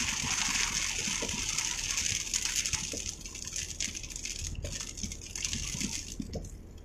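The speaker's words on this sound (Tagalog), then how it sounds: "Naglalaki na po ang alon." Typhoon waves churning and splashing at Kawit pier, a steady loud wash of water with surging gusts throughout, no voices.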